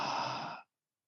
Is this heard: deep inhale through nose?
yes